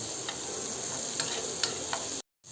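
Butter sizzling steadily in a pan while pasta is cooked, a constant hiss with a few faint clicks and stirring taps, cut off by a brief silence at the end.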